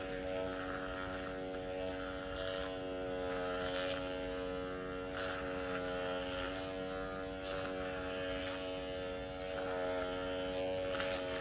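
An electric microneedling pen set to 1 mm depth buzzes against skin during a facial treatment, giving a steady, close, whining motor hum that runs without a break.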